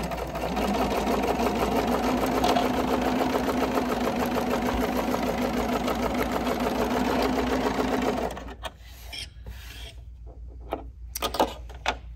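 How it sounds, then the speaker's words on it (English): Sewing machine stitching a straight seam across quilt block fabric, running steadily and close for about eight seconds, then stopping, followed by quiet handling sounds. "So I'm just gonna sew straight across here"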